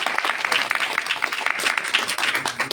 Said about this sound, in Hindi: इसके लिए मैं एक बार सब लोग ताली मारें